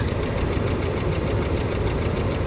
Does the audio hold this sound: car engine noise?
yes